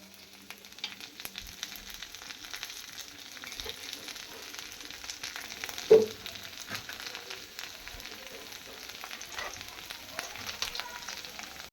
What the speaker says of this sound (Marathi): याच भेंडीला थोडंसं साईडला करून यामध्ये तेल टाकून घेते मी.